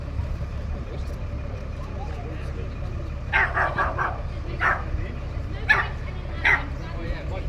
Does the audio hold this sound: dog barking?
yes